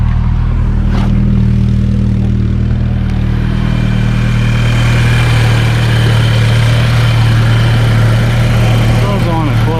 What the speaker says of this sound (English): Alright, started the engine.